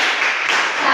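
Brief burst of classroom clapping as students do a 'tepuk salut' applause routine, a short dense wash of hands.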